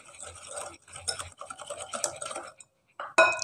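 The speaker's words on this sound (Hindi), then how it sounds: "अच्छा सा मिक्स कर लेंगे।" Date biscuit dough is mixed in a bowl with quick, close scraping and stirring strokes in short bursts, a brief pause, then a sharp utensil clink against the bowl.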